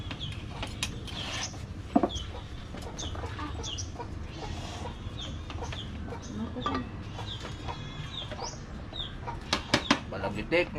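Chickens cluck continuously with scattered sharp squawks, close and busy over a steady farmyard background with faint voices.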